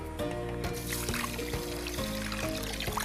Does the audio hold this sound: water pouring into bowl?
yes